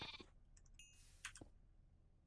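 Sheep in a modded Minecraft skyblock game, a few short bleats mixed with clicks and small pickup chimes, faint and brief with no voices.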